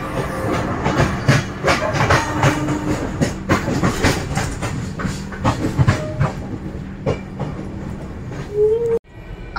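The Duronto Express between Sealdah and New Delhi rolls along the rails, heard from on board as a steady, loud clickety-clack with rushing noise that continues throughout before cutting off sharply at the end.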